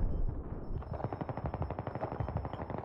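Rapid automatic gunfire from the Battlefield 3 video game, a sustained rattling burst of close shots in quick rhythm, loud and dense, with no speech over it.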